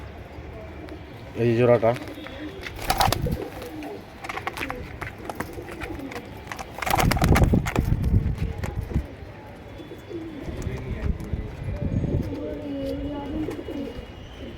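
Several pigeons coo softly in short bursts, a racing Giribaz breeding pair among fancy pigeons, while someone talks over them close by and handling noises come and go.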